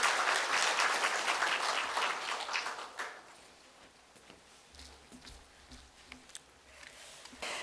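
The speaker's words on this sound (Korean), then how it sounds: "큰 박수로 모시겠습니다" Conference audience applause welcoming a keynote speaker, loud dense clapping that fades out after about three seconds, leaving quiet room noise with faint scattered sounds.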